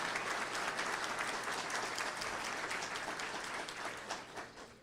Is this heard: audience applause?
yes